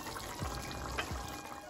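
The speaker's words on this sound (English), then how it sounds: "I am gonna add another cup of hot water in here" Hot water is poured into a pot of simmering muthia curry, a soft, close trickle and splash lasting about a second, quiet and without talk.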